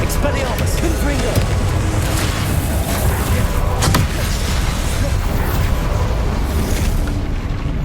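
Confringo blasting spells burst in Hogwarts Legacy combat: a dense, continuous roar of booming magical explosions and rumble, with one sharper crack partway through, under game noise with a voice cast in.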